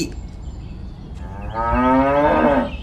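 A cartoon cow moos once, a long, loud, drawn-out low call that swells in the second half and then fades, heard on its own without talk.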